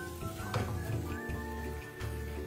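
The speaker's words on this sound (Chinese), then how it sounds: "将所有食材一起炒匀" Chicken pieces marinated for over three hours are stir-fried with fragrant spices in a little oil over raised heat, giving a steady, close sizzle with faint tonal sounds in the background.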